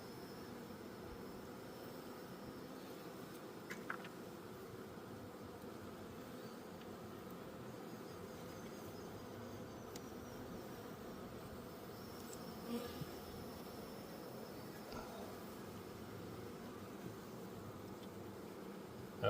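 Honeybees buzz around an open hive during an inspection, a steady, dense drone close to the listener, with an occasional louder pass of a single bee and no voices.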